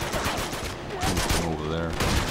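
Shotgun blasts in an Uncharted 2 deathmatch, loud heavy booms mixed into busy game audio with a voice talking over the action.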